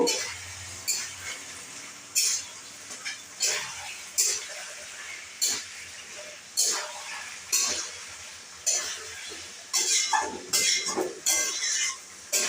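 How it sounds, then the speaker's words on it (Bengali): Coriander leaves stirred into a tangra fish curry with green tomato in a pan, a spoon scraping in regular strokes about every second over a soft bubbling simmer, close and moderately loud. "ধনে পাতাগুলি এর ভিতর দিয়ে দেবো দিয়ে একটু নাড়িয়ে দেব"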